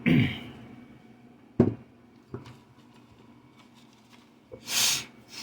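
A few short nasal sniffs and snorts spaced apart, close to the mic, followed by a longer breathy exhale near the end.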